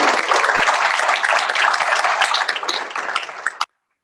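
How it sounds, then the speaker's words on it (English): An audience at a medallion ceremony claps for the achievers in a brisk, dense round of applause that tapers slightly and then cuts off abruptly after about three and a half seconds. "We can give them a round of applause."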